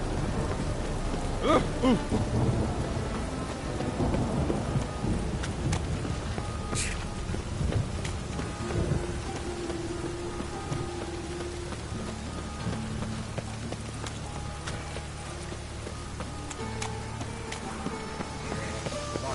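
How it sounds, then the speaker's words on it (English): Steady rain with rolling thunder in a stormy scene in the video game Witcher 3, a dense continuous downpour with deep rumbles building early and easing later, heard without talk. "Rain is coming."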